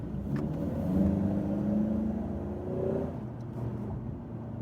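A 2017 Ford Mustang EcoBoost with an automatic transmission pulls hard through its gears, heard from inside the cabin as a steady, moderately loud engine drone that climbs in pitch and holds before easing off near the end.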